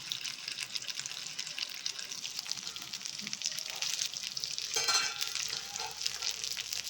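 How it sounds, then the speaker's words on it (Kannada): Green-coloured fish fry sizzles in a pan on a medium flame, with a steady frying crackle, occasional stirring and no voices. "ಈಗ ನಾವು ಮೀಡಿಯಮ್ ಫ್ಲೇಮಲ್ಲಿಟ್ಟು ಫ್ರೈ ಮಾಡ್ಕೊಳ್ಳೋಣ"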